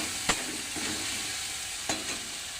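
Spices with turmeric sautéing in a pan, a steady crackling sizzle with two sharp stirring scrapes, one near the start and one toward the end.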